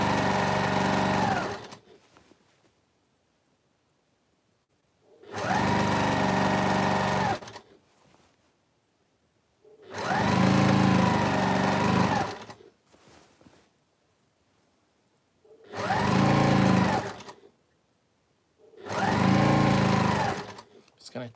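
Sewing machine stitching a fabric border, running in five steady buzzing bursts of a few seconds each, close and loud, separated by quiet pauses.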